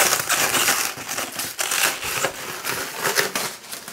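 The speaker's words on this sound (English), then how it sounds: "So cellophane, protective cellophane." Protective cellophane film crackles and crinkles steadily as it is peeled off a new AquaSpace bidet toilet seat, a close, continuous rustle with small bursts of crunching and no talk.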